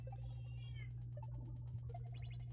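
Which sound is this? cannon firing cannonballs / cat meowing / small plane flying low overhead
cat meowing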